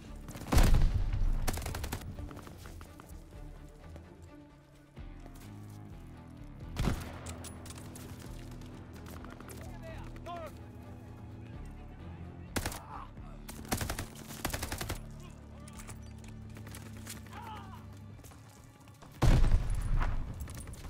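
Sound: gunfire in Call of Duty: Vanguard video game battle

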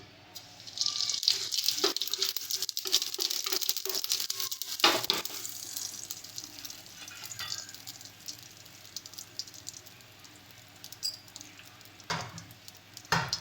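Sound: cumin seeds sizzling in hot oil in a wok

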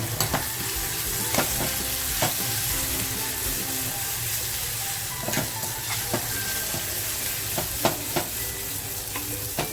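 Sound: tomatoes frying and stirred in pan for dal tadka

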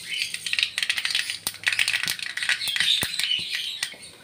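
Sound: mustard seeds popping in hot coconut oil

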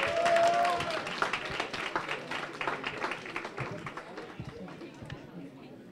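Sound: students applauding

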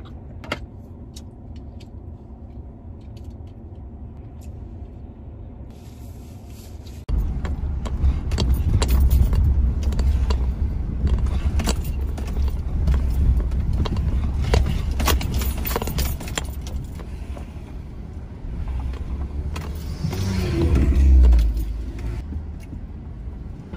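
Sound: car driving over a bumpy road

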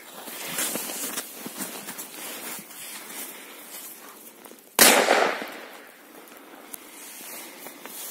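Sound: firecracker exploding, old 2017 firecracker test

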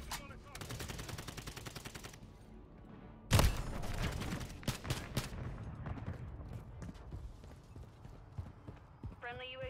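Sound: assault rifle gunfire in the video game Call of Duty

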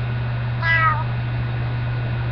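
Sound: cat meowing

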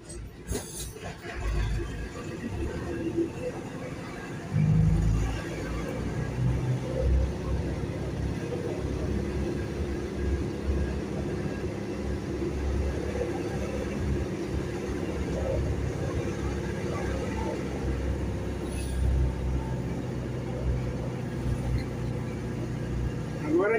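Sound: truck driving through city streets

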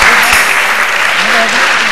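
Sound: audience applause for a quiz contestant

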